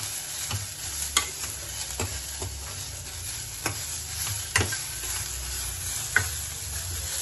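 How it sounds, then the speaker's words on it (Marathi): Onion and tomato sauté in a pan on low gas for a green chana masala, giving a soft continuous sizzle broken by a few scraping stirs of a spoon, with no talk. "परत एक स्लो गॅसवर आपण 5 मिनिटं परतणार आहोत"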